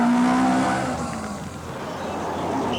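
A 1984 Monte Carlo Rally car, such as a Group A Volkswagen Golf, races past with a steady engine drone that fades slightly and then holds, fairly close and loud.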